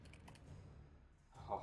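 Soft clicks of keys on a new computer keyboard, a few quick presses then a pause and another brief burst, faint and close against a quiet room.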